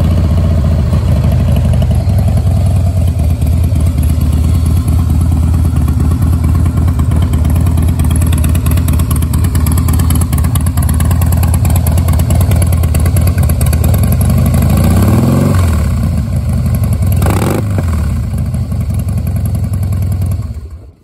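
A 2016 Harley-Davidson CVO Pro Street Breakout's engine rumbles steadily at idle for about twenty seconds, loud and close, with a couple of brief revs near the end before it cuts off.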